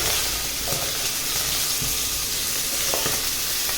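Radish sizzling in a little oil in a pot for sambar, a steady bright frying hiss with occasional soft stirring clicks, close and continuous without talk.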